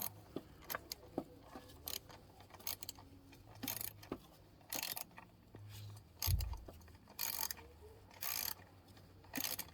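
The rear sprocket bolt on a Pioneer Nevada 125 motorcycle is tightened: irregular metallic clicks and clinks of tool on bolt, close and fairly quiet, with a short louder knock near the middle.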